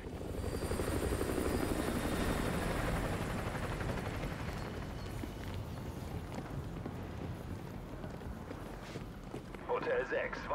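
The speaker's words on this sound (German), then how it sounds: "Feindlicher Heli auf Patrouille. Aufpassen, Hotel 6. Roger. Heli nähert sich, runter jetzt." An enemy helicopter's rotor thumps loudly and steadily in Call of Duty: Modern Warfare 2 Remastered, drawing near, with the drone fading slightly as it passes; voices murmur faintly underneath.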